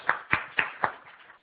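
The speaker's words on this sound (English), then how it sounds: "Give me a clap again" Four distinct hand claps in an even rhythm, close and fairly sharp, fading quickly after the last one, from a lone clapper in a lecture setting.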